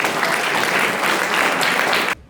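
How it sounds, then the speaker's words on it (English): Audience applause after team scores are announced at an Independence Day quiz event, a dense steady round of clapping that holds loud for about two seconds and then cuts off abruptly. "Can we have a good round of applause?"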